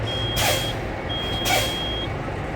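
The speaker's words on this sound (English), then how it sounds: "Okay, I hear the buzzer." A truck's low air pressure warning buzzer sounds a sustained high tone twice, each time with a loud sharp hiss of air as the service brake is pumped, against a low idling rumble.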